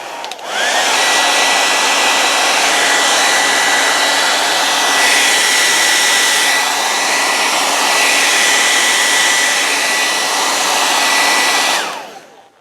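A hot air blower heating Tenacious Oil roars loudly and steadily for about eleven seconds, switching on and cutting off cleanly.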